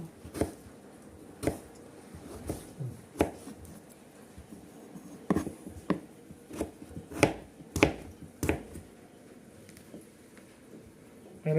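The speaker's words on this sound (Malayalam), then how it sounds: "ചെറുതാക്കി കട്ട് ചെയ്യുക" A knife chops nutmeg on a board for pickle, with about a dozen sharp, separate strikes coming in an uneven rhythm with short pauses between them, close and fairly quiet.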